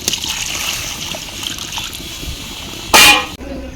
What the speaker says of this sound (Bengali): এখন দিয়ে দেব সিদ্ধ করে রেখেছিলাম জলটা,